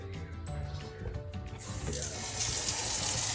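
Cold running tap water splashes steadily into a sink, growing louder and hissier partway through as the flow hits fresh homemade butter being rinsed of buttermilk.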